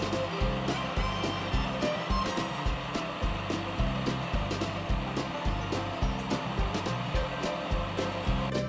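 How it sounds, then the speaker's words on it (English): A blender whirs loudly with a pulsing, chopping rhythm as it churns through leafy greens, steady and close. "Next, we put the greens into the blender."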